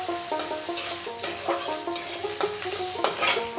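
Boiled, ground banana blossom frying in a pan until reddish: rhythmic scraping strokes of a spatula repeat over a continuous soft sizzle, close and moderately loud.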